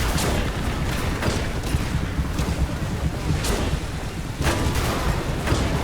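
Dense, rumbling battle noise in War Thunder with an M4A1 Sherman medium tank, loud throughout, with several sharper gun reports punching through a constant roaring bed of engine and distant fire.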